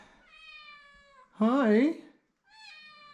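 Cats at a cold unheated cabin meowing in several drawn-out calls, one loud wavering yowl in the middle between softer meows, close by, with a brief human greeting.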